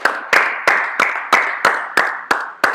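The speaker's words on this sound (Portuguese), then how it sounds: "vamos dar uma salva de palmas para Jesus" Evenly spaced single claps, about nine sharp hand claps in under three seconds, close and loud with brief decay between each, no voices.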